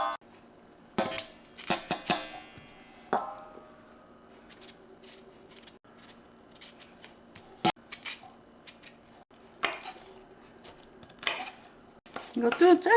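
A knife slices young altari radishes in half on a cutting board, producing sharp scattered knocks and scraping clicks with quiet gaps between cuts and no talk over them.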